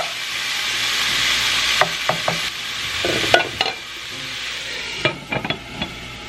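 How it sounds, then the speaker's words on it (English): Pork for spicy bulgogi searing in a pan, a steady close sizzle with occasional sharp clinks and scrapes of a utensil against the pan. "So we are gonna let this cook for about 4 minutes and just like let it sear on one side."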